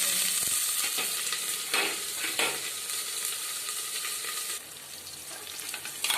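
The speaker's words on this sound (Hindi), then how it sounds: "अब मैं इसमें करी पत्ता, प्याज डाल दूँगी।" Onion and curry leaves frying in hot oil: a steady, bright sizzle close by with a few stirring scrapes, no talking over it.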